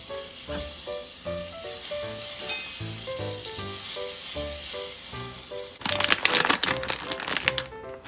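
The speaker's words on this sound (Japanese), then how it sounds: "フライパンが温まったらバターを入れて" Butter drops into a hot frying pan and sets off a bright, crackling sizzle in bursts near the end. Before that, tuneful background music plays with only a faint hiss beneath it.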